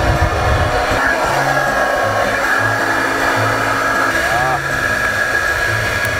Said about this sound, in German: Ihr braucht den Föhn, braucht den Pinsel.